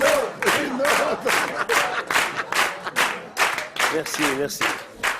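Rhythmic studio audience clapping in uneven bursts, with crowd voices and chanting over it, and someone speaking briefly on top.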